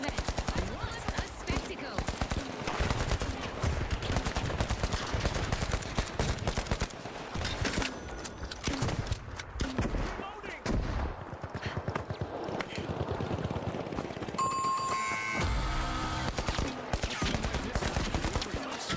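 Dense, sustained gunfire from the video game The Finals, rapid bursts filling the whole stretch loud and close, with game effects and a brief tone layered in and a voice talking over it.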